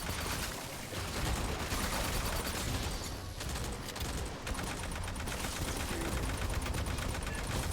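Sustained rapid automatic gunfire in the sci-fi shooter Aliens Fireteam Elite, dense continuous bursts filling the whole stretch with no talk.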